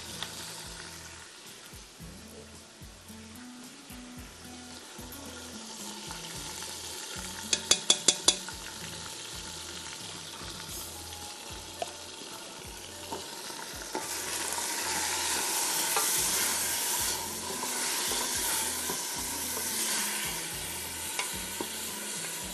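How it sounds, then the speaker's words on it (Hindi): Ginger garlic paste frying with 750 g of meat in a hot pan, a steady close sizzle with stirring scrapes and a brief burst of utensil clinks partway through, no talking. "इसको आप थोड़ा सा भून लीजिए"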